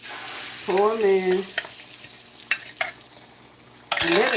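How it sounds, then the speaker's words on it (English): Whipped eggs sizzle and fry steadily in a pan, with a utensil stirring and scraping in short bursts and brief tonal squeaks over the frying. "And then you're gonna start frying them."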